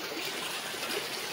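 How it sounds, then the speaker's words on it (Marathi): A waterfall pours from a water pool along the Harishchandragad trek, making a steady, even rush of flowing water at moderate distance with no other sounds. "हा पाण्याच्या कुंडापासून एक धबधबा आहे"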